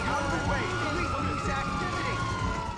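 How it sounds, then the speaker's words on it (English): A police car siren in the Grand Theft Auto V video game wails steadily and loudly with a rising and falling tone, accompanied by rumbling engine and game noise. "You got your siren on and shit, letting them know where you are."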